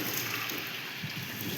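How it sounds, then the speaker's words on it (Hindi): Rain falling during a thunderstorm with strong wind in Bhadaura village, a steady, faint hiss that holds evenly throughout. "बारिश तो पूरा आंधी तूफान आया है यार।"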